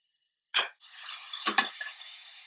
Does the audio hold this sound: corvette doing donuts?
no